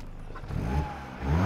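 A car engine revs in short, light accelerations, the intake rising and falling as a low, fairly discreet roar close by.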